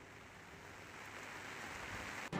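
Heavy monsoon rain pouring steadily in a village area during flooding, a continuous dense hiss of drops on surfaces, moderately close and uninterrupted, with no voices.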